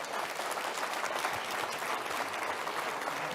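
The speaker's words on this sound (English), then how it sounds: "Big round of applause for Pierre." Sustained applause from a conference audience at an economic development summit, steady dense clapping throughout, fairly close and even in loudness with no talking.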